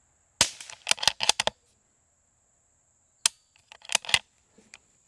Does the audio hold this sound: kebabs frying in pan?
no